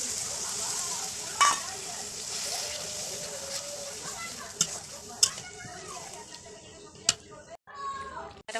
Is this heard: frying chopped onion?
yes